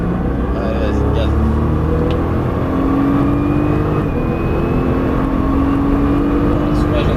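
A Nissan GT-R accelerates hard on the Albi race circuit, its engine a loud, steady rumble held close throughout with a gradually rising pitch.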